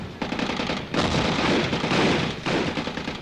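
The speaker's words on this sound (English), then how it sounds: "American and Australian warships firing at will." American and Australian warships fire their guns in Sydney Harbour during a Japanese submarine attack, dense overlapping bursts of gunfire in several loud waves, rough and continuous.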